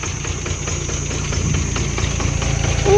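A small 12-horsepower tractor engine idles with a steady, rhythmic chugging and faint knocking, running continuously at moderate loudness.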